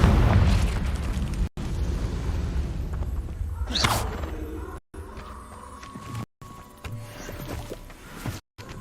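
A Confringo explosive spell going off in a Hogwarts video game, a loud fiery blast with a rising whoosh and rumble, followed by further booming impacts and crackles amid game effects.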